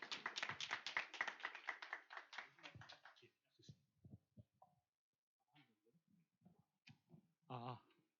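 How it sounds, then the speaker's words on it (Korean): An audience at a church youth lecture gives a short burst of clapping welcoming a professor, loud and dense for about three seconds before thinning into scattered claps, followed by brief speech. "박수하면서 교수님 받도록 하겠습니다."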